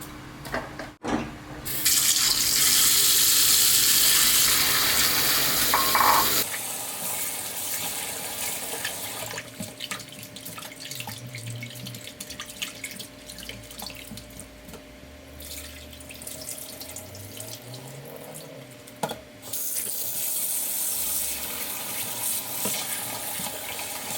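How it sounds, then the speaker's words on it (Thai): Pickled bamboo shoots being rinsed under a running kitchen tap, a steady close hiss of flowing water that drops in level after a few seconds into softer splashing and handling in the sink, then rises again near the end. "เดี๋ยวเรานำหน่อไม้ดองไปล้างน้ำล้างสักสองน้ำนะครับ"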